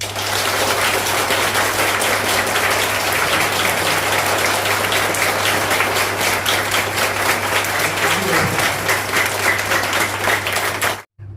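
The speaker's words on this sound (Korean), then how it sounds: "인사를 하면은 큰 박수로 축하를 해주십시오" A church congregation claps to congratulate the newly baptized and confirmed, a loud, dense and steady wave of applause that carries on for several seconds under a low hum before stopping abruptly.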